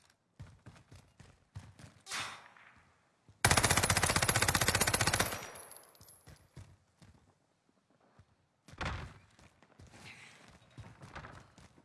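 Video-game gunfire from Call of Duty Warzone: a loud, sustained automatic burst of about two seconds, framed by quieter clattering steps, scattered shots and brief movement sounds.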